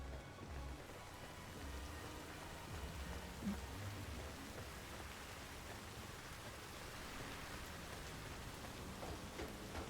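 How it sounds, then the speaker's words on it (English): Steady rain in Cyberpunk 2077 falls as a soft, even hiss of drops across the whole stretch, quiet and continuous, with no voices. "I'm trying to remember the last time it's been raining"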